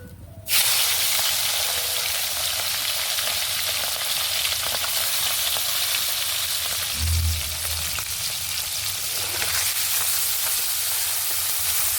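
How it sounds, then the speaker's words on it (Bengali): Small chuno fish drop into hot oil in a kadai and set off a loud, steady, continuous sizzle that runs unbroken for about twelve seconds, with a faint stir or clunk midway. "এরপরে আমি মাছগুলো ভেজে নেব"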